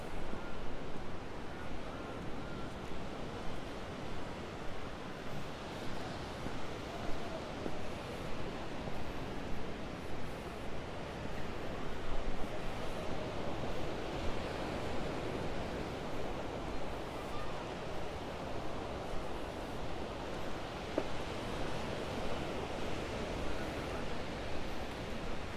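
Small ocean waves washing onto El Medano beach in Tenerife, a steady broadband surf roar with faint wind, continuous and even throughout with no talking.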